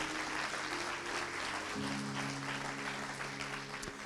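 A church congregation at a Portuguese-language evangelical celebration service claps in a dense, steady applause that lasts the whole time, over sustained keyboard chords.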